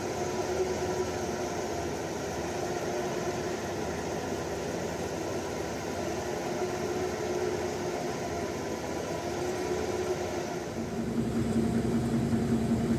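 Rear 9.25 inch differential on a Dakota, its ring and pinion grinding in forward gear: a continuous droning whine under steady mechanical rumble, shifting to a lower, stronger hum for the last couple of seconds.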